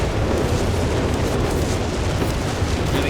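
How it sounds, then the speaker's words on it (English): A Whizbang rocket artillery barrage in Company of Heroes 3 sets off a dense, continuous roar of overlapping explosions that stays loud and steady throughout. "Got another whiz bang barrage here."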